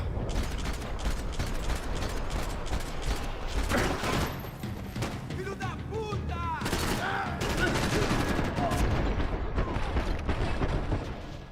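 Dense bursts of gunfire in the video game Max Payne 3, with rapid overlapping shots and loud fusillades under game sounds, and brief voices in the mix.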